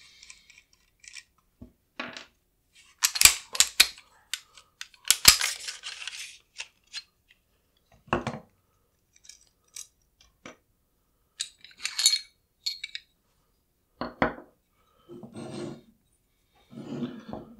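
A barrel bushing is worked off a Zastava CZ-999 pistol fitted with a threaded barrel, giving sparse close metallic clicks, scrapes and small clatters separated by quiet gaps.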